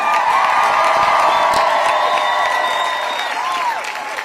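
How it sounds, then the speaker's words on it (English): An audience gives Attorney General Josh Stein a warm, sustained round of applause at a gathering about reproductive freedom, dense clapping with cheers and a few whoops that ease off slightly toward the end. "Please give me a warm round of applause for Attorney General Josh Stein."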